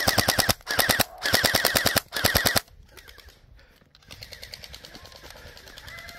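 A YAGEE DGR LEI gel blaster fires in rapid triple bursts, four loud clipped volleys of sharp regular shots in the first few seconds, followed by quieter outdoor background with faint rustling.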